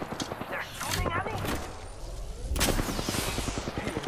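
Rapid bursts of gunfire from a match of the video game Apex Legends, close and loud, with game sound effects throughout and a voice talking over parts of it.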